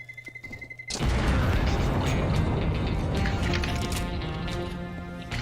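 Bomb explosion in CS:GO, a sudden loud boom after a second of quieter beeping and mechanical clicks, followed by a sustained roaring rumble that slowly fades.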